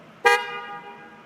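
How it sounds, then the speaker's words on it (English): Car horn sounded during a vehicle service check: one short, loud honk that rings briefly and then fades. "Tech B checks the wiper blades and windshield and calls out for the horn and"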